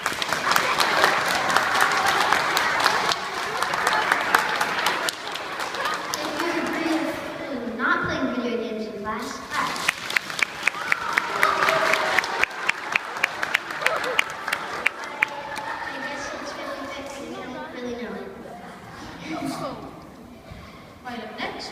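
Students clap at a Tokyo International School assembly during a persuasive debate, a burst of applause and crowd noise mixed with talking, rising again in sharp separate claps midway before voices take over.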